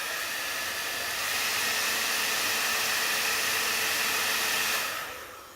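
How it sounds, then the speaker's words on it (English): A hairdryer blows steadily, drying glue on a sculpt: a loud, even whooshing hiss that starts up, holds for several seconds and then cuts off near the end. "I'm gonna speed up that process with the aid of my trusty hairdryer."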